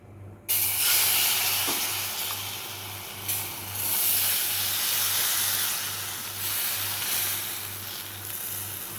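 Malpua batter hits hot oil with a sudden loud sizzle that holds steady as a close, continuous frying hiss, with a faint low hum running underneath.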